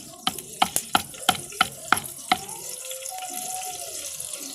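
Oil for tempering cracks and sizzles in a village kitchen, opening with a rhythmic run of sharp, loud pops before easing into a softer steady hiss, with a faint whistle-like tone near the end.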